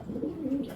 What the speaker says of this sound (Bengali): আমি কবুতর 2টা দেখাবো আপনাদের।